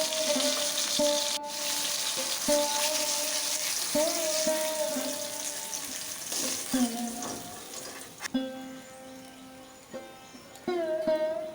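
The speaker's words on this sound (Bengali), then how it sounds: "মাছ ভাজা হয়ে গিয়েছে" Rohu fish pieces frying in hot oil in a pan: a continuous close crackling sizzle throughout, with scraping spatula strokes and a few sharp clinks, under speech.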